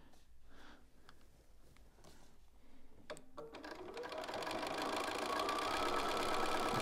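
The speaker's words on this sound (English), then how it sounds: "I sew a few stitches in, and then I check" A sewing machine stitches fabric up close. It is quiet at first, then breaks into a steady, fast mechanical whirr that keeps building toward the end.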